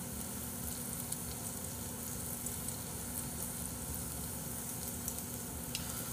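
Pieces of chicken special cuts grilling on a hot grill, fat rendering as they brown, give a steady, close crackling sizzle with scattered sharper pops throughout, with no talking.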